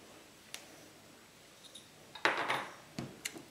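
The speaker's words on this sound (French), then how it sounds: "On mélange tout ça délicatement." A utensil stirring a sugar and coconut oil lip scrub in a bowl gives sparse, faint clicks and taps, with a louder scraping clatter midway and a few sharp ticks toward the end, with no voices.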